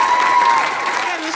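Audience applause fills a comedy club during a stand-up set, a dense, steady wash of clapping that stays loud and even for the whole moment.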